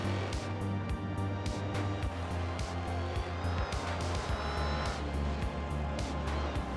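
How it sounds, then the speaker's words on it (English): Supercharged V8 race cars in a racing video game, a dense engine drone with rising whine during acceleration, repeated gear-shift dips and passing cars throughout the lap. "V8 engine, you can hear the supercharger whine when they're accelerating."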